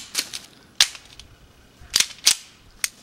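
A Colt Combat Unit pistol fires several sharp, separated gunshots outdoors, each a crisp loud crack with a short tail, spaced irregularly over about three seconds.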